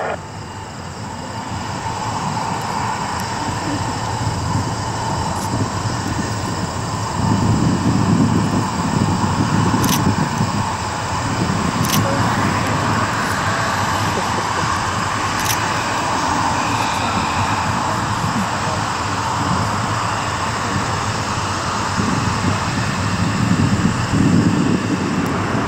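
A fixed-wing airplane takes off at Toronto airport, its engines roaring loud and steady for the whole span with a broad rumbling, rushing drone and no talk.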